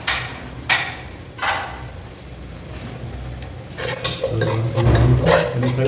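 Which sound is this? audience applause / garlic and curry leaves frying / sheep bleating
garlic and curry leaves frying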